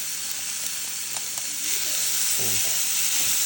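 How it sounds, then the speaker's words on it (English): Noodles sizzle and hiss loudly in a hot pan for chow mein, a steady crackling fry that builds a little louder partway through. "you can hear that sizzle"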